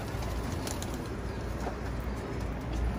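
Racing pigeons in a loft make soft cooing calls and brief wing flutters over a constant background hum, heard at close range without talk.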